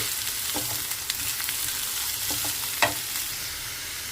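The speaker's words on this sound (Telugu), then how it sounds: "వేసి కొంచెం పచ్చివాసన పోయిన దాకా వీటిని వేయించుకున్నామండి" Snake gourd pieces frying in a pan while being stirred, a steady sizzle broken by several crisp spatula scrapes and taps, no talking.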